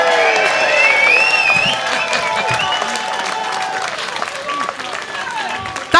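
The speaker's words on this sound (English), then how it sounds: "A round of applause for Audrey White." Audience applause at a 40th anniversary celebration for Jeremy Corbyn MP, a dense crowd clapping steadily with cheers and whoops mixed in, close and loud for several seconds.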